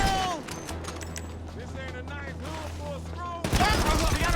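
Gunfire rings out in GTA Online as NPCs are shot, sharp bursts among game noise and a low hum, with a loud burst of shots at the end; a voice talks over part of it.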